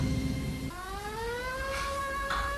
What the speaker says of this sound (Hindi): सायरन।